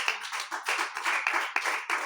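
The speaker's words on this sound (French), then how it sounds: "applaudissez pour le Seigneur" A congregation claps in praise of the Lord during a Christian study gathering, a steady run of sharp, fairly close handclaps with distinct strong beats about every quarter second, no talking over it.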